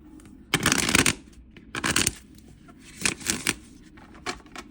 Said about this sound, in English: I'm going to pull some tarot cards on this